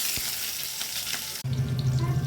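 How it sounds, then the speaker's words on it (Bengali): Capsicum is dropped into hot oil already holding dried red chillies, cardamom and bay leaves, a crackling fry that jumps into a louder, fuller sizzle midway and keeps bubbling close by without talk. "এবার ক্যাপসিকামটা দিয়ে দিচ্ছি।"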